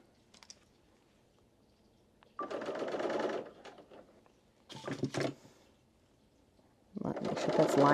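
A sewing machine stitches a side seam in three separate bursts of rapid mechanical whirring, close and clear, with quiet pauses between them.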